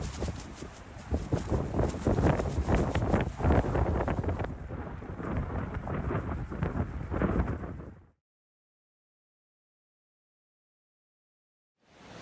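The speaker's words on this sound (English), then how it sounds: "It was also extremely windy here." Strong wind batters the microphone near Briksdal Glacier in Norway, loud gusty rumbling for about eight seconds before cutting to silence.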